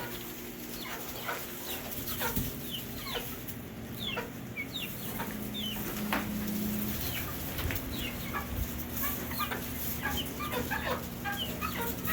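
Young chickens cluck and chirp repeatedly at close range in a flock being trained to return home, short calls scattered over a steady outdoor background hum.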